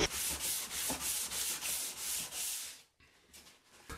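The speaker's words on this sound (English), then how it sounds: "I'll just do a finished sand and it'll be ready for painting." A surface patched with body filler gets a finish sanding by hand, a close, rhythmic rasp of strokes about three per second that stops near the end before a few softer rubs.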